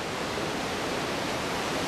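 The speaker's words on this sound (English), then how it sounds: "Get a shot of that waterfall real quick on the other side" A waterfall on a Nepal hiking trail roars as a constant, dense broadband rush, loud and unbroken, with no voices.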